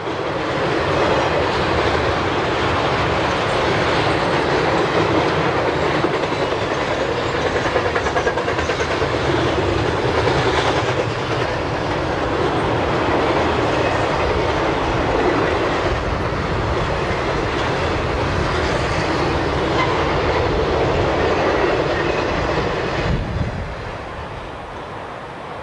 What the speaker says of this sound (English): Southbound Freight Train